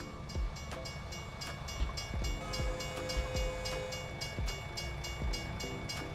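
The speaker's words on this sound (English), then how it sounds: "Get the windows open so we can hear the train." A train passing in American Truck Simulator, heard from a truck cab with the windows open: rhythmic clickety-clack wheel thumps over a low rumble, with a faint horn-like tone in the middle, moderately loud and continuous.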